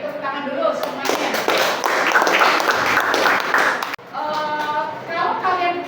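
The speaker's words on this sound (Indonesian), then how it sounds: "tepuk tangan dulu semuanya" A classroom of students claps together after a student presentation, a dense burst of many hands that stops abruptly, then picks up again more faintly alongside talking voices.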